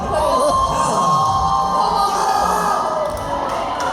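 A large crowd at a Black Veil Brides Q&A event cheers and shouts continuously, a loud, sustained roar of many voices with whoops mixed in.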